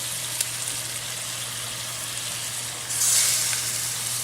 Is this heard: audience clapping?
no